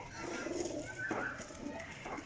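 A teddy high flyer pigeon coos nearby, soft repeated low burbling under quiet background noise, with a brief faint voice partway through.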